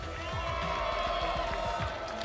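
Crowd at a CWL Championship 2017 esports venue cheering and clapping in a dense, continuous roar that holds for a couple of seconds while a voice speaks over it.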